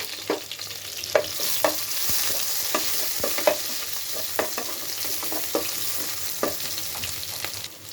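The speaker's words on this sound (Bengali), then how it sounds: "তেলটা গরম হয়ে গেছে এখন পেঁয়াজটা দিয়ে দেব পেঁয়াজটা দিয়ে দিলাম" Onions frying in hot oil in a pan, a continuous close sizzle with a scattering of sharp crackles and spoon clicks spaced through it, steady and moderately loud with no one speaking.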